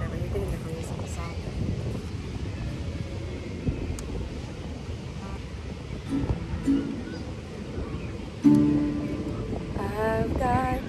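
Ocean surf washes in a steady broadband roar mixed with wind buffeting the microphone on a breezy seaside outing, with voices talking over it toward the end.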